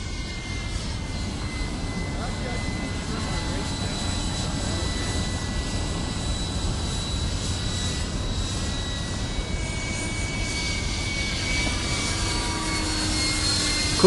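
An 89mm electric ducted fan model plane flies at barely any throttle, its steady, fairly faint whine and rush continuing throughout with a few tonal sweeps and no voices over it.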